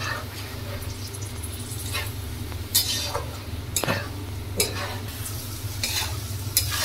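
Turmeric fried in oil in a pan for Bengali fried rice is stirred with a utensil, giving a steady close sizzle broken by scraping strokes and occasional metallic clinks against the pan.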